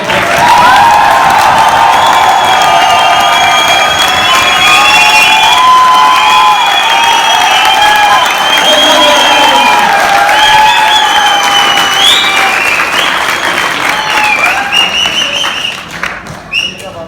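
Loud, sustained audience applause with cheering voices at a hotel session event, a dense roar of clapping that holds steady before tapering near the end.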